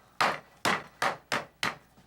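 An old cleaver chops through pork chops and breaks the bone in a home kitchen: five sharp, loud, close thwacks, evenly spaced, each with a short woody ring and no talk.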